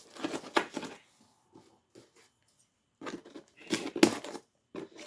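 Amazon book package being opened with scissors on hand, giving bursts of close tearing and crinkling of tape and packaging, with a quiet pause between the clusters of rustle.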